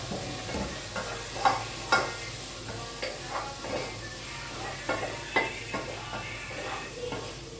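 Onions frying in a pan with ginger garlic paste, a steady sizzle broken by scraping stirs and clinks of a spoon against the pan, close and fairly loud with no talking.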